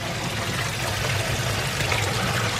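Steady rush of water flowing and gurgling down a newly unblocked sink drain, continuous and fairly loud, with no voices.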